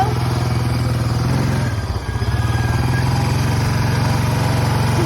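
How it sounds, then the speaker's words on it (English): A 1996 Honda Fourtrax 300 4x4 ATV engine runs while being driven, a loud close chugging putter that dips briefly mid-way and then resumes its steady throb. "This is my Honda fourtrax 300."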